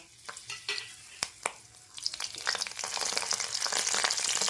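Dried red chili and slit green chilies dropped into hot oil in a pan, starting with a few sharp spits and scrapes, then building into a steady, louder crackling sizzle close by.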